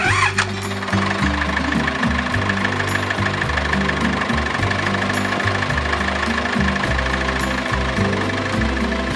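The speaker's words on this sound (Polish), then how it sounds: "Ja posługuję się w tej pracy ciągnikiem z turem." A tractor's heavy diesel engine runs loudly and continuously while its front loader works, with rhythmic knocking and rising and falling revs.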